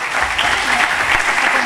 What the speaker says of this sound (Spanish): El aplauso, que se escuche bien fuerte ese aplauso.